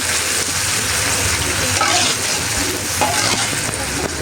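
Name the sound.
beef fat frying in a pan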